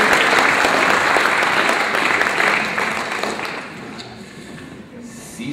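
A lecture audience applauds the speaker Klaus Dieter Ritter at the end of his talk, steady dense clapping that gradually fades out toward the end.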